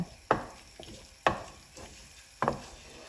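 A spoon breaking up jaggery lumps in a cooking banana mixture for ethapazham ada: three separate soft thuds with scraping, spaced about a second apart, quiet and close.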